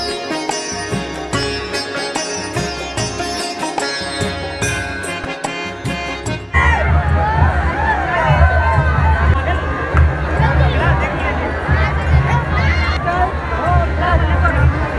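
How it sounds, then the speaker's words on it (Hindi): A dense night crowd at a Ganesh Chaturthi fair in Rajasthan fills the air with loud, continuous babble and shouting. Music plays underneath at first, then the chatter swells up close as voices talk throughout. "आज इतनी भीड़ हो रही है"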